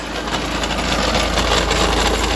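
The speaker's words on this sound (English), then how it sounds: "That noise is coming out of the gearbox." A steady, loud mechanical drone of an idling Ford S-Max with a constant metallic rattle and banging from a faulty gearbox running through it, no voices.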